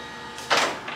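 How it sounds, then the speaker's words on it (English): A point-of-sale receipt printer at a gasoline station printing a receipt, a short mechanical whirring buzz that swells halfway through and continues briefly, close and alone. "Now, the receipt printer will print,"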